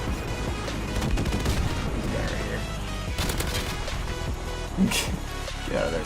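Rapid bursts of XM-LAR rifle fire in the video game Modern Warfare Remastered, dense and continuous, with someone talking over the shooting.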